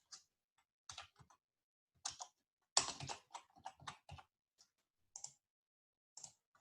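Keys typed on a computer keyboard while entering client information into bankruptcy intake software, heard as scattered short bursts of clicks and single taps with pauses between them, quiet and close, no talking.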